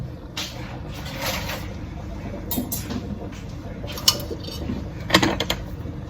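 Metal pots, pans and cutlery clink and clatter in a kitchen cupboard as a lid is hunted for while chilli con carne simmers, with sharper knocks near the end, no speech.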